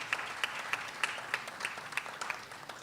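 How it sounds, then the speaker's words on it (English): Audience applause at a youth business event, a fairly faint crowd with a steady patter of clapping and regular sharper claps, no talking. "Give them a big round of applause for that."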